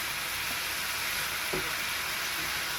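Duck bulgogi fries in a pan with a steady, even sizzle, close and moderate in level, with a single faint scrape partway through and no talking.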